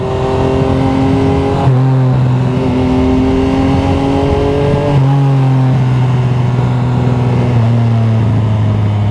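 Yamaha MT-09 motorcycle in sports mode accelerating hard on a road, engine revving loud and close through rising pitch sweeps with quick drops at gear changes, no voices.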